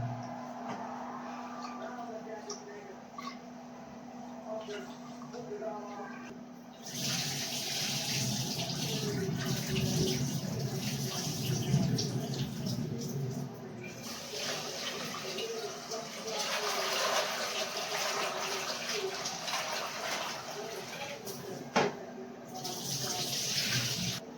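Water runs from a tap in a kitchen while rice is being prepared, a steady splashing gush that starts and stops in long stretches, with a person talking quietly under it.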